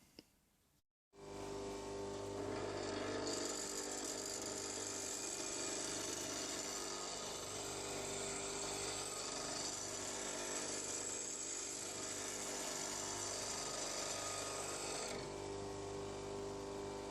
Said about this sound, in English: use this jig, this grinder, and sharpen a turning chisel